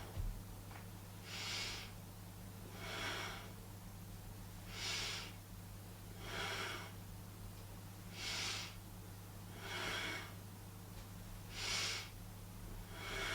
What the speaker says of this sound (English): Inhaling up through the nose,